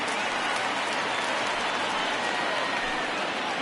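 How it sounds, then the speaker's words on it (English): A home crowd at a Texas Rangers baseball game applauds pitcher Mike Minor as he departs, giving a steady, broad roar of ovation that holds throughout. "So he receives a nice ovation Jesse from this home crowd"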